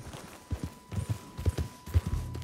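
Horse hooves clip-clopping in the video game Red Dead Redemption 2, a steady trotting rhythm of close, fairly loud hoofbeats over a light background hum.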